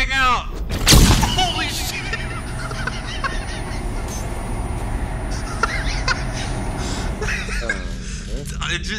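A flashbang grenade in the video game Ghost Watchers goes off with one sharp, loud blast early on, followed by a noisy, ringing stretch with voices talking over it.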